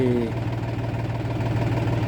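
A diesel tractor engine idles nearby with a steady low throb and a faint knocking pulse, holding an even rhythm for the whole stretch.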